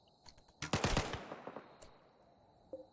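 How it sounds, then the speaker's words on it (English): Rimworld video game gunfire crackles in a rapid cluster of sharp automatic shots, then scattered single reports fade out, fairly faint overall. "Gunfire rings out as he desperately gets to cover."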